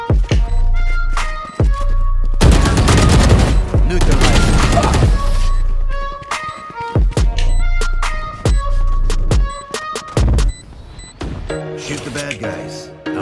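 Valorant gunfire crackles in dense bursts and sharp single shots, loud and close, with bright metallic reports and clicks between volleys; game music and callouts sit underneath.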